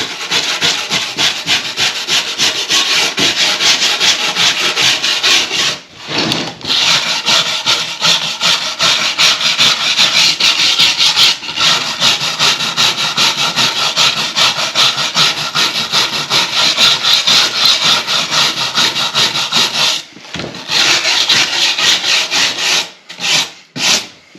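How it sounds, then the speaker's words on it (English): A plain wire brush scrubs hard across rustic black walnut wood, loud and close, a continuous rasping drag with steady back-and-forth strokes and only a couple of brief pauses. "That's just a regular old wire brush."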